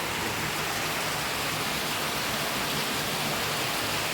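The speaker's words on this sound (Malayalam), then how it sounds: "നല്ല മഴയുണ്ട് കേട്ടോ, നല്ല മഴ." Heavy rain pours steadily and loudly, a dense unbroken hiss filling the whole stretch with no voices.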